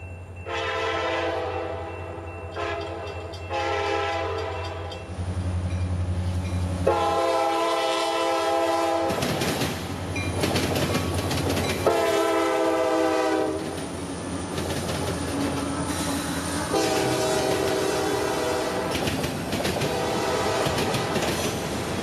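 CSX mixed freight train M441 rolls over the track diamonds in Plant City, Florida, a loud, continuous rumble of wagons with repeated heavy clacking of wheels over the crossings and blasts of the horn rising and falling throughout.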